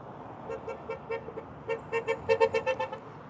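Short car horn toots sound in quick succession, a few scattered at first and then a faster run of honks, moderately close over low traffic hum.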